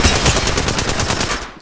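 Rapid automatic gunfire bursts loudly and continuously in a Fight Night battle-royale video game, a dense rattling stream of shots that tapers off near the end.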